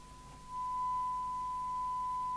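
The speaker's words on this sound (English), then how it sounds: "It's a nice sine wave there." A steady sine-wave test tone from a Midland 2001 UK FM CB radio on a repair bench, starting after a brief quiet moment and then holding one pure, unwavering pitch alone at moderate level.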